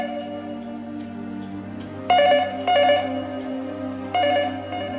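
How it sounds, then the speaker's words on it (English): A telephone rings inside a house, three short trilling bursts evenly spaced over a steady, sustained musical background, with no one speaking. "Diana didn't hear the phone ringing inside the house."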